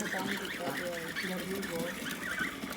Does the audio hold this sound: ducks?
yes